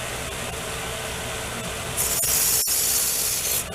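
A small powered tool deburring a chainsaw chain during sharpening starts partway through, a bright, steady high-pitched grinding hiss for about a second and a half after a noisy, rumbling stretch, with a sharp click in the middle.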